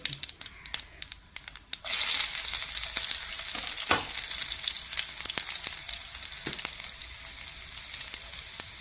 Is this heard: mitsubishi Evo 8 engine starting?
no